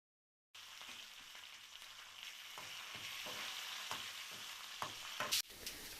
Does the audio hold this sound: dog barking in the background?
no